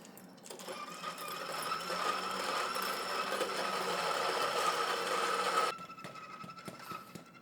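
A DF83V coffee grinder fitted with SSP burrs runs in a steady whirring drone for several seconds, then cuts off into quieter background sounds.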